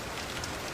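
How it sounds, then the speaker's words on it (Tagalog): Heavy rain pours in a dense, steady hiss of drops, loud and unbroken for a brief moment with no voices. "Lakas ng ulan"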